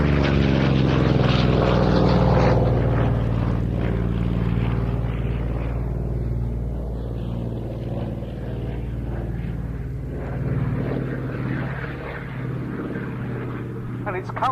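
A Corsair propeller fighter flies at Duxford, its engine drone loud and steady throughout with a gradual pitch shift as it passes, while someone talks over it the whole time.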